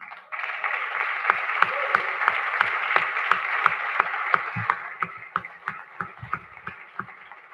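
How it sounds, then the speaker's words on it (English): Audience at a council meeting applauding, a steady burst of clapping from a modest crowd lasting several seconds with sharp individual claps standing out, fading toward the end. "can we get a round of applause to our youth?"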